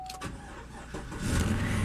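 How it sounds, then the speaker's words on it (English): A 2014 Chevy Silverado 1500 pickup truck cranks briefly and its engine catches, settling into a low, steady idle rumble that grows louder toward the end. The short clip has no talking. "Engine runs, ladies and gentlemen, sounds great."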